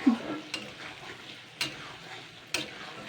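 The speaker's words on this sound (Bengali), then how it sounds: "এটা দিয়ে আমি ভালো করে নাড়াচাড়া করে নেবো" Eggplant and pumpkin fry in a pan for a fish-oil chachchari while being stirred, giving a low steady sizzle broken by three sharp scraping strokes spread across the moment.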